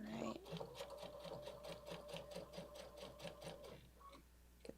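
Sewing machine stitching a seam at a 2.5 mm stitch length, a steady rapid rhythmic whir of needle strokes running for several seconds before stopping, close and clear.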